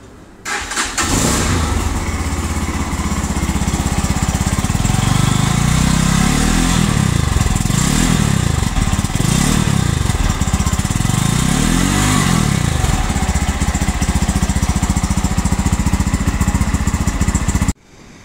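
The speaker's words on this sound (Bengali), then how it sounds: "আমরা এখন বাইকটার এক্সস্ট নোট শুনি" A GPX Demon GR165R, a single-cylinder 164cc motorcycle, starts and idles steadily nearby, then rises through several throttle blips and revs before settling back to a loud, even idle, with no voices.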